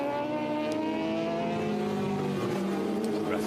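Road racing motorcycles, including a Kawasaki, scream past at the Southern 100 race on the Isle of Man, a loud sustained high engine whine that shifts pitch as the bikes go by.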